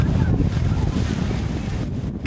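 Strong wind and rough waves on a fishing boat at sea in spring, a loud continuous roar of gusts buffeting the microphone over churning water throughout.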